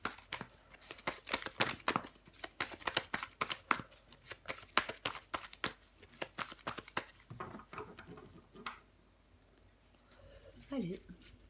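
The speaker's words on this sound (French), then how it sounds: "Je vais recouvrir des cartes tout de suite." Tarot cards riffled and shuffled in quick papery bursts, then slapped down onto a table one by one, close and fairly quiet, with a voice talking over the handling.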